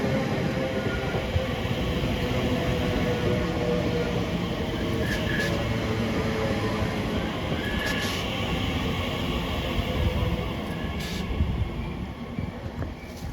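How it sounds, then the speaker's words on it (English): A London Underground 92 stock train pulls in, a steady loud rumble of wheels on track with occasional brief high squeals, heard close throughout. "I think I can see another 92 stock train"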